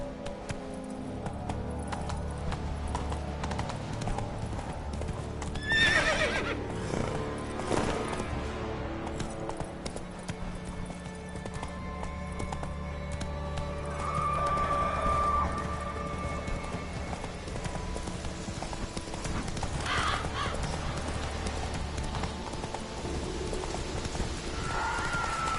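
Roach the horse gallops in The Witcher 3, hooves clip-clopping in a steady rhythm over game music, with a brief whinny partway through and a sustained, fairly loud presence throughout.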